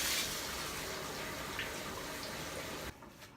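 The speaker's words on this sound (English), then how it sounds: "So now we're gonna open up the other side and fill that up with hot water." Hot water runs steadily from a bathtub tap into a Hoover carpet shampooer tank, a continuous splashing hiss that stops abruptly near the end, leaving faint drips.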